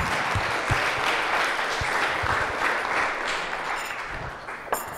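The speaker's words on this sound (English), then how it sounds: "First of all, a round of applause." A conference audience applauds after a programming talk, dense continuous clapping from a full room that holds steady for several seconds and thins slightly at the end.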